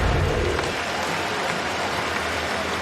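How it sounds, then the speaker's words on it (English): Stadium crowd at BMO Field during a CFL game between the BC Lions and Toronto Argonauts, broad sustained applause and crowd noise, loud and continuous throughout. "get some applause from the crowd here at BMO"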